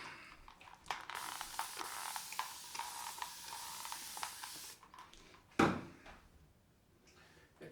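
A shaving brush whips lather in a shaving bowl with a fast, soft swishing and stirring close by, then a sharp knock near the end before quieter brushing.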